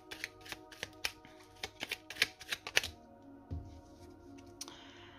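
Cards being shuffled for a tarot-style reading, a rapid run of crisp riffling snaps for about three seconds, then a few softer slides and taps close by with no talking.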